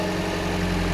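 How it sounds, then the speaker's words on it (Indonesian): Steady, smooth engine idle of a third-generation Toyota Vios taxi with fresh oil, a constant low hum, close up and uninterrupted. "Untuk suara mesinnya masih halus banget."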